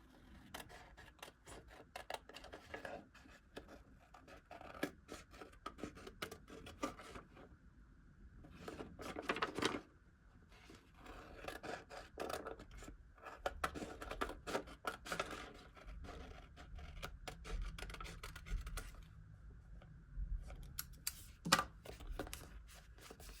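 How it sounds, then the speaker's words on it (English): Scissors trimming the edge of paper for a mini book, quiet close snipping and rustling in short irregular bursts with pauses between cuts. "I'm going to give it a nice trim with my"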